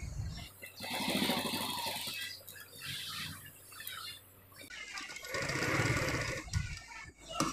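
Electric sewing machine stitching a shirt sleeve with buttons, a fast steady chatter that runs in bursts with short pauses between, close up and fairly loud.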